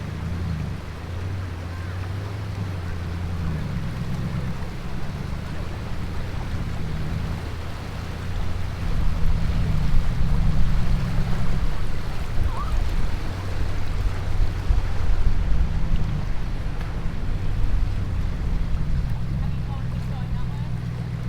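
Nissan Patrol Y62 4WD cruising across a creek on the Old Telegraph Track, its engine a steady low rumble with water churning around it, growing louder midway, with voices talking now and then.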